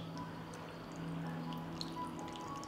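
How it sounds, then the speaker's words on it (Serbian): Water poured into a glass jar of cabbage being prepared for canning: a faint, steady trickling pour that runs without a break, heard softly over a quiet room hum. "Sipat ću vodu u teglu."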